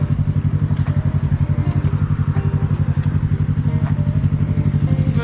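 A motorcycle engine idles loudly with a fast, even pulsing throb that holds steady throughout and does not rise into clear revving.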